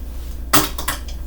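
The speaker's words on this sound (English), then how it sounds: "You're gonna dump it right in there" Chocolate chips tipped from a cup into a bowl of cake-mix cookie dough: one sharp rattling clatter followed by a couple of lighter scattered patters, close and brief, with no talking.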